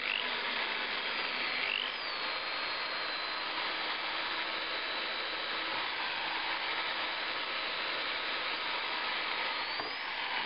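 A drill bores a hole while a pneumatic pin is being made, giving a steady, even whir that holds throughout at moderate loudness with no pauses.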